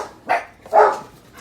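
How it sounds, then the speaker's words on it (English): Dogs bark in a home kitchen, two short barks about half a second apart, the second louder and longer, with no talking over them. "those are my dogs barking because I heard somebody pounding"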